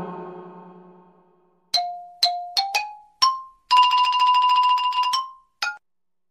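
A xylophone plays a short run of struck notes, bright and close, with single taps, a sustained rolled tremolo note, then a final tap before silence.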